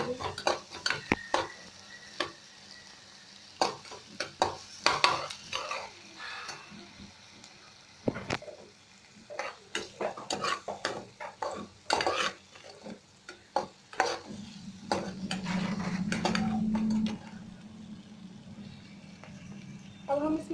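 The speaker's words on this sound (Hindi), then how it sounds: "अब इन सारे इंग्रेडिएंट्स को मिक्स कर लीजिए, बिल्कुल अच्छे से मिक्स कर लीजिए" Ingredients, including turmeric, are mixed in a bowl with a spoon, giving repeated scraping clinks and knocks in an uneven rhythm under a speaking voice, with a brief low sizzle-like rush near the end.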